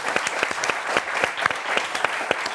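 Studio audience applause on a French football TV show, a dense, steady run of many hands clapping with sharp individual claps standing out, fairly close and continuous throughout.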